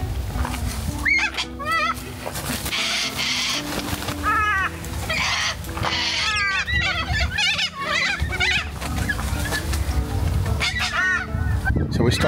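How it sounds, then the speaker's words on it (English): Cockatoos calling at an Australian roadside rest area, a busy, raucous flock of harsh screeches and squawks repeating throughout over steady background noise, with brief faint talk. "there's massive cockies over there"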